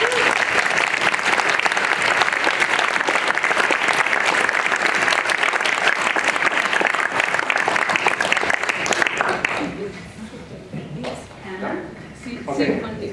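An audience at an entrepreneurship education fireside chat breaks into loud, sustained applause that fills the room for several seconds, then thins out to scattered claps and murmuring voices.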